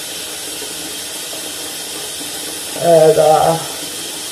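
Tap water runs in a steady hiss at a sink while glue is washed off a face, with a short burst of speech and splashing near the end.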